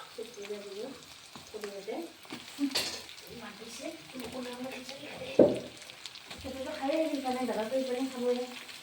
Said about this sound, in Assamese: আৰু পিঁয়াজখিনি অলপ ভাজি ল'ম।